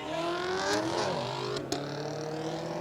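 A Camaro and a Subaru race car accelerate hard off the green-flag start at a New Smyrna track event, engines roaring loudly and continuously as they pull away.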